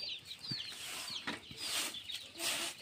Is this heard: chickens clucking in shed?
yes